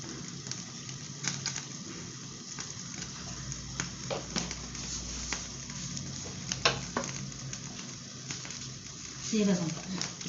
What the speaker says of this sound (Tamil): இது சூடான கடுகு போட்டுப்போம் கடுகு பொரியட்டும்